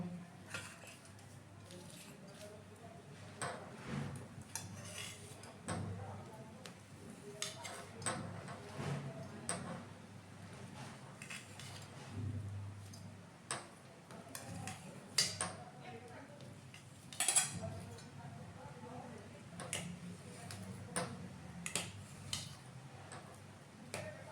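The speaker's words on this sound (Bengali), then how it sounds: "আর এখানে এই যে পনিরটা কেটে নেব।" A knife cuts paneer for a Bengali vegetarian meal, giving soft, irregular taps and clicks on a board. The sounds are faint against quiet room noise and a low murmur.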